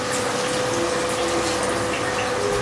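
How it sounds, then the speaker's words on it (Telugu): A glass of water pours steadily into a pot for bagara rice, a continuous close, loud rushing stream with no talking. "ఇప్పుడు ఒక 1 గ్లాస్ వాటర్ పోసుకోవాలి"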